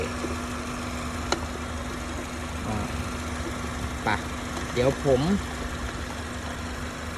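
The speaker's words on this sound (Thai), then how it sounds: "ฝากเสียงเครื่องยนต์ละกัน" A Honda City ZX 1.5 VTEC automatic car engine idles steadily with a low, even hum throughout, while someone speaks briefly over it.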